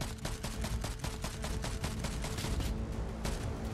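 Gunfire from a heavy-recoil gun in Fortnite Chapter 5 on mobile, a rapid, evenly spaced burst of sharp shots fired continuously, fairly quiet in the mix.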